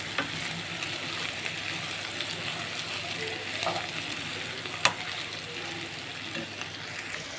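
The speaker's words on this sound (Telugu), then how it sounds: "ఈ దొండకాయలు మధ్య వరకు ఇలాగే ఫ్రై చేస్తూ ఉండాలి" Ivy gourd pieces fry in a little oil with a continuous moderate sizzle, occasional clicks of stirring and a small sharp tap partway through; no one speaks.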